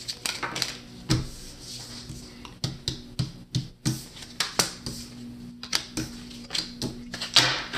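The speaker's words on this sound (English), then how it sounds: "I'm sorry for the banging on the table." Sharp knocks strike a table again and again at an uneven pace, fairly close, with a faint background hum between hits.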